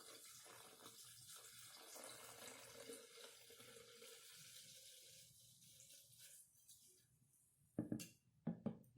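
Sangria is poured steadily into a pitcher with a soft, continuous liquid rush. A few sharp clinks of glass or ice come near the end.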